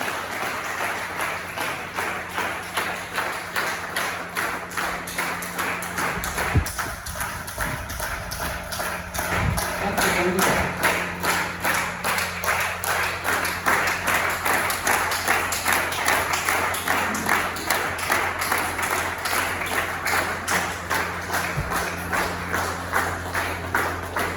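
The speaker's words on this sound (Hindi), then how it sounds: "जोरदार शानदार तालियों के साथ हम सब मिलकर के उनका स्वागत करेंगे" A crowd applauding loudly and continuously, dense rhythmic clapping that swells and carries on throughout.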